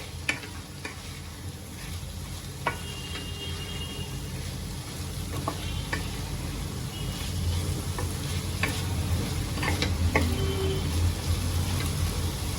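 Red pumpkin bhaji with desiccated coconut being stirred in a pan, with a steady sizzle of frying under scraping and stirring strokes that grows slightly louder over time, alone without speech.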